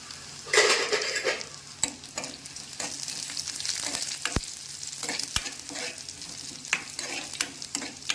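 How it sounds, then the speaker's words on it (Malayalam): Dried red chillies fry in hot oil for an Angamaly-style mango curry, giving a steady close sizzle with scattered stirring clicks and a few sharp utensil taps against the pan. "സാധാരണ നമ്മൾ ചെയ്യുന്നത് പോലെ വറ്റൽമുളക് ഇട്ട് കൊടുക്കും"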